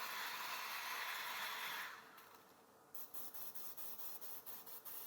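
Hair dryer blowing on a car seat during leather and cloth repair: a steady broad hiss that fades away, followed by a series of short rhythmic spray bursts close by.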